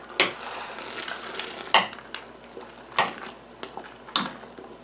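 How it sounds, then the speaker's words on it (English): A spoon stirs Northern Brewer hops through a rolling boil of pumpkin ale wort, producing a series of sharp scraping strokes about a second apart over a steady bubbling wash, close up and with no voices. "Nice steady rolling boil. Just give them a stir."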